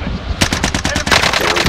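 Rapid automatic gunfire in an online multiplayer shooter, a loud close burst of evenly spaced shots that pauses briefly and then resumes.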